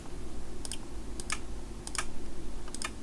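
A Siglent SDM3065X bench digital multimeter clicks crisply as it switches measurement modes, four short double clicks spaced about two-thirds of a second apart, close and clear over a faint hum.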